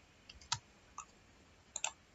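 A few sparse, light clicks of keys on a computer keyboard, quiet and isolated, with a short double tap near the end and long gaps of near silence between strokes.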